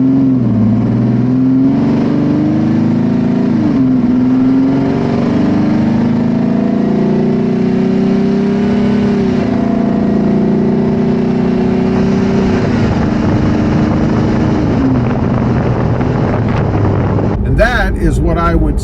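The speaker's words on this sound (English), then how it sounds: "I'm going to accelerate back up to 55 one last time to kind of finish off the video, let you guys hear what it sounds like" A Jeep Wrangler engine with a cold air intake, picked up by a mic under the hood, pulls steadily from low revs up to 55 mph, the engine tone rising and falling through shifts under constant loud wind and road roar.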